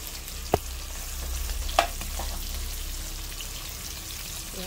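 Vegetables sautéing in a pan for pakbet, the Filipino vegetable stew: a quiet, steady sizzle with a couple of sharp clinks from stirring, heard alone with no voices.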